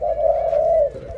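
A pigeon coos once in a low, sustained note, close and loud, with no talk over it.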